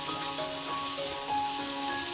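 Aloo dum mixture with turmeric powder sizzling and frying in a pan as it is stirred, a constant loud hiss filling the short stretch, no voices.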